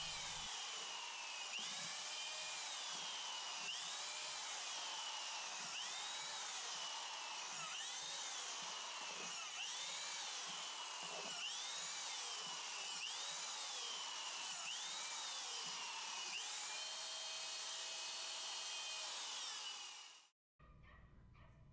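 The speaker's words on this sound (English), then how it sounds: "Then I will use the drill to break down the hardened JWA into small pieces" Power drill breaking up hardened JADAM wetting agent in water, its motor whining in repeated pitch-rising surges with churning, knocking chunks, loud and close before cutting off abruptly near the end.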